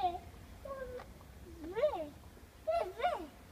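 A kitten meows several times in short rising-falling cries, clearer and louder toward the end, with a voice faintly mixed in around it.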